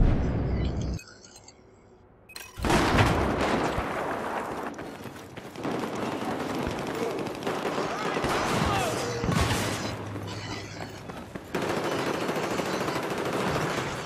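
Rapid bursts of Battlefield 4 multiplayer gunfire crackle almost nonstop, with a brief quieter gap early on and a voice talking over the shooting.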